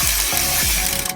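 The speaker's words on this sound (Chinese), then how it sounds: "有没有脚踏车的齿轮声呢？" A bicycle gear ratchet clicks in a quick, loud burst of mechanical ticking, played as an isolated sound effect, lasting just over a second.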